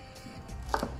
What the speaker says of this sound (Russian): Потом идет по твердости сельдерей. Нарезаем также порядка сантиметра толщиной.